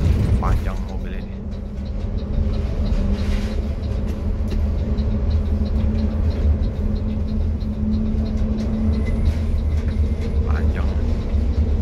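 A long double-decker bus drives past with a steady, loud low engine rumble and road noise that holds throughout, while people talk over it.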